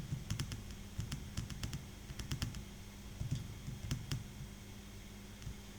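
Quiet clicks of typing on a computer keyboard, entering text into an Excel spreadsheet cell, in short irregular bursts with brief pauses and no talking.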